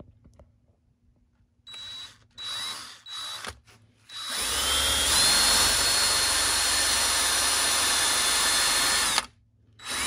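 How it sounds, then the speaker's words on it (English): A power drill bores into the aluminium casing of a Bafang Ultra mid-drive ebike motor still mounted on the bike, a few short bursts followed by a long, loud, steady whine of drilling that cuts off abruptly. "when you drill this, drill it almost all the way through without grease, and then grease your drill bit to catch the chips"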